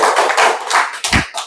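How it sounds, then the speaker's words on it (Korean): Brief burst of group clapping in a church gathering, a dense patter of many hands with a thud near the end, fairly close and loud. "박수."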